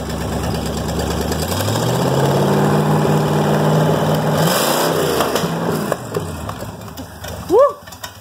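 A 427 tall deck Chevy V8 engine revving, its pitch sweeping up and down through several throttle blips before settling toward idle, loud and close, with a brief voice near the end.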